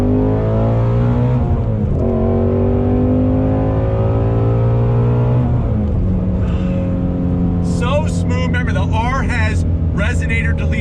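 A 2020 Shelby GT350R with a resonator delete accelerates hard in second gear, its engine note climbing loud and close with a brief dip between pulls, while someone talks over it.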